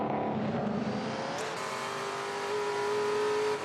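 A Ford Falcon touring car racing at Queensland Raceway, loud and close with its engine roaring steadily, the pitch shifting and then holding a high drone.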